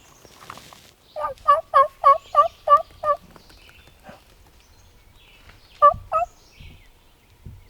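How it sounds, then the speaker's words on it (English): A wild turkey gobbler gobbles in the woods, a quick burst of six rattling gobbles followed later by a shorter pair, moderately loud and carrying from some distance, with no talk over it. "one of them gobbled, and he was over the ridge"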